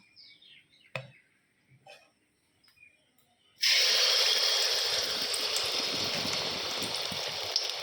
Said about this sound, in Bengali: তেলটা গরম হয়ে গেছে, দিচ্ছি